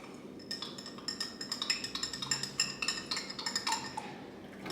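A spoon stirs a michelada in a glass, giving a quick run of light rhythmic clinks and scrapes against the glass that builds and fades over a few seconds, close and fairly quiet.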